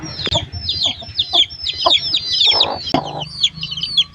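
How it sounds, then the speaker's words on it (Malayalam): Chicks peep in rapid high-pitched calls throughout, mixed with lower clucking from nearby hens and a few soft knocks. "നമുക്ക് കുറച്ച് കോഴിക്കുട്ടികൾ വിരുന്നിക്കണം ഒരു അഞ്ചാറ് കോഴിക്കുട്ടികൾ വിരുന്നിക്കണം"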